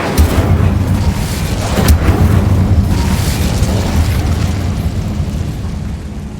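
Fiery spell blasts from the Incendio charm in Hogwarts Legacy: a loud whooshing burst near the start, a second sharp flare just before two seconds, then a rumbling roar that slowly fades.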